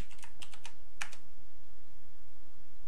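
Quick keystrokes on a computer keyboard clatter in a short cluster during the first second, then give way to a faint steady hiss with no voices.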